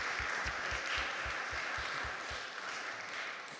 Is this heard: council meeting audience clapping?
yes